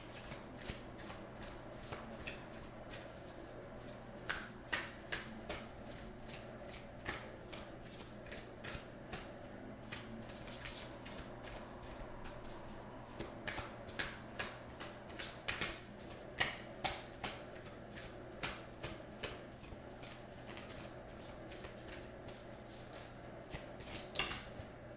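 A deck of oracle cards is shuffled by hand, giving repeated crisp riffling flutters and soft slaps. The bursts come in irregular clusters over a low steady hum, with no talk.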